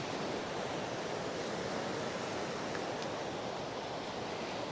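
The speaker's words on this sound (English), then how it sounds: "waiting until the waves on the top of the frame are kind of rolling out a little bit" Ocean waves rolling in on a shore, a steady broadband wash of surf that stays loud and even throughout with no distinct breaks or voices.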